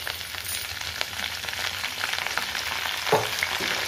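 Curry leaves frying in hot oil for sabudana upma give a steady close sizzle with light crackles, plus a brief clink of a utensil near the end.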